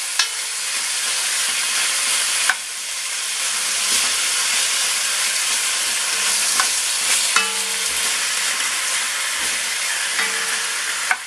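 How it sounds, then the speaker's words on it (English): Beef stroganoff meat fries in a pan with a loud, steady sizzle and hiss running throughout, broken by a few sharp stirring clinks and scrapes; no one speaks. "So, I'm going to cook off this meat a little bit."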